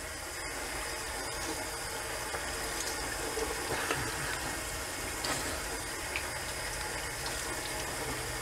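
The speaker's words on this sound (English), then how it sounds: "rinse with cold water." Cold tap water runs steadily into a sink for a rinse after a shave, a faint continuous hiss and splash without talking.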